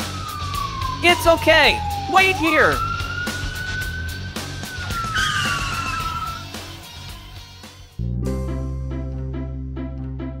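An emergency vehicle siren sounds in the Roblox game Brookhaven. A gliding tone rises and falls for about six seconds while voices speak over it. Other tones follow later.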